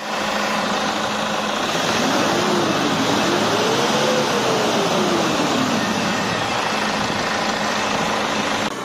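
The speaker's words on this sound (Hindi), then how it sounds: "गाड़ी को हमने स्टार्ट भी कर लिया है, इंजन को राउज भी कर लिया है।" A Toyota Fortuner diesel engine, freshly overhauled, runs steadily at a constant, loud idle, with a faint rising and falling whine partway through and no voices.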